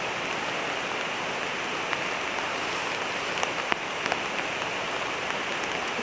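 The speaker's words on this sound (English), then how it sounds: "listen to the rain on the tarp" Steady rain falling on a tarp at a rainy tent campsite: dense, continuous hiss of drops with occasional louder individual patters, close and unbroken throughout.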